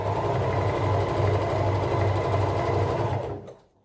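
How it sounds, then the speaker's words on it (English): A sewing machine stitching a corset seam runs in a fast, even mechanical whir for about three seconds, loud and close, then winds down and stops. "It sounds like a good sewing machine to me."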